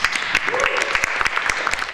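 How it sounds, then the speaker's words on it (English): Audience applause at a queer talk event, a short burst of scattered claps, moderately loud, with a voice speaking briefly underneath. "Applause to that."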